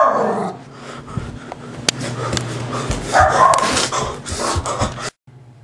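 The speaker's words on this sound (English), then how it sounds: "it's a rabid dog!" A rabid dog growls, whimpers and barks loudly and close by in an agitated outburst that cuts off abruptly near the end.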